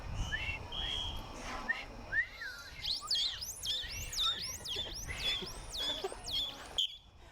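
A man imitates a captive dolphin's signature whistle, a rapid run of high looping, rising and falling whistled sweeps close up, preceded by a few sustained whistle tones.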